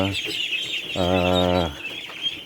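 Poultry on a small farm calls out with a clear, drawn-out squawk near the middle, set among softer clucks and scattered background noise at close range.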